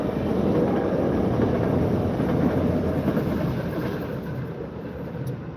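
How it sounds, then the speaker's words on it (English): A train rumbles past nearby with a steady, broad, loud roar that holds for several seconds before easing slightly toward the end, with no voices. "Oh, there's the train."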